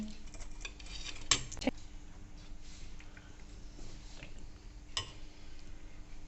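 Light scraping and clinking of a utensil spreading mayonnaise and tomato ketchup on a toasted burger bun in a home kitchen, soft and close, with a couple of sharper taps and no talking.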